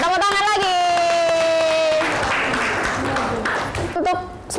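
A classroom group claps together after a stretch of sustained voiced tones, the dense patter filling the middle of the clip at steady volume before thinning out as a voice returns.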